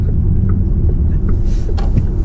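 Cars going around a roundabout, heard from inside a waiting electric Volkswagen ID.4 GTX on UK roads, give a steady low road rumble with a few faint passing swishes and no talk.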